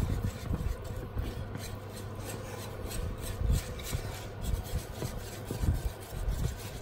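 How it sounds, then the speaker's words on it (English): A whisk works cider beer pap in a pot, giving a continuous scraping, rasping rub with steady strokes at close range and no talk. "then we're going to start working it with our whisk"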